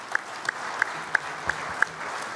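Sparse, evenly spaced claps, about six sharp hand claps in a steady rhythm, ring out faintly over a quiet hall at a regional farmers' union (FNSEA) congress.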